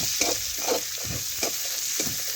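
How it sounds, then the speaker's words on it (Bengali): Onion pieces sizzle in hot oil as a spatula scrapes and stirs them in a steady rhythm, close and alone under a constant frying hiss. "তেলের মধ্যে পেঁয়াজ দিয়ে একটু নাড়াচাড়া করে পেঁয়াজটা"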